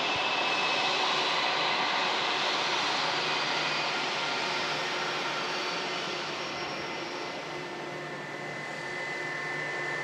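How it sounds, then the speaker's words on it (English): A British Airways shuttle airliner arriving at Manchester Airport from London Heathrow gives off a steady, broad jet-engine roar heard at moderate distance, holding fairly even and dipping slightly near the end. "British Airways shuttle service coming in from London Heathrow"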